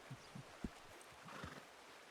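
A horse in Red Dead Redemption 2 snorts and shuffles, a few soft hoof thuds and low breathy sounds close by over faint game ambience.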